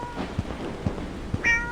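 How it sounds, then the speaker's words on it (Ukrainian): Three short cat meows in the horror video game Knock Knock, spaced evenly about half a second apart, followed by a brief bright tonal game sound, with no talking. "Кіт мявка."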